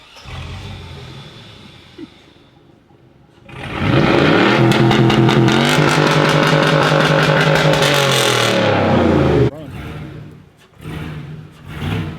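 A truck engine fitted with a freshly welded new exhaust cranks, fires up loud and close, holds a strong rev for several seconds, then drops back to a rougher idle with small blips.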